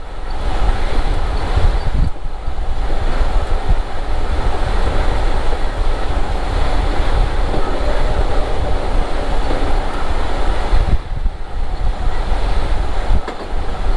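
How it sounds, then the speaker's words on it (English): A New York City subway train on the Rockaway line rumbles steadily along an elevated track, loud and continuous wheel and motor roar with airy rushing noise, no voices. "Our train is now reaching its balancing speed."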